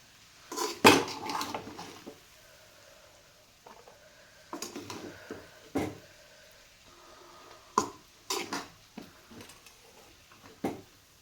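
Cluster bean biryani being served from a pot onto a plate, with repeated sharp clanks and scrapes of a metal spoon against the pot and plate, in short bursts separated by quiet pauses.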